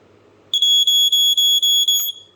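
A vintage smoke alarm shrieks with a piercing high-pitched tone, pulsing in rapid bursts for about a second and a half after a quiet start.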